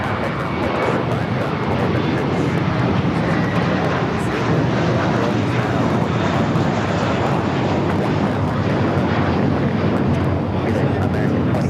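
An Air Premia Boeing 787 Dreamliner arriving from Seoul taxis toward the gates at LAX, its engines giving a steady, loud broadband roar that holds without a break.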